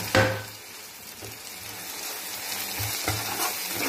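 Dried shutki fish dropped into a hot pan for a kochur loti curry, giving a soft, steady sizzle with a few light stirring scrapes and clinks, close and quiet, no talking.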